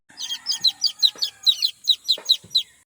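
A hen clucking in a steady run of about a dozen short, bright calls, close by, with a few soft knocks underneath.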